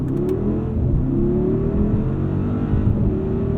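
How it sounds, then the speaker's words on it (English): A 2020 Mercedes-Benz GLS580 4MATIC mild-hybrid SUV accelerating hard, heard from inside the cabin as a steady, loud engine drone whose pitch climbs smoothly through the gears, with no talking. "let's do a braking and acceleration test"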